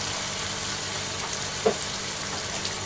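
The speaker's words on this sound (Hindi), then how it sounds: "मीडियम फ्लेम पे फ्राई कर लेंगे प्याज को" Chopped onions fry in oil over a medium flame while a vegetarian thali is being cooked, giving a steady, close sizzle with one brief pop partway through and no talking.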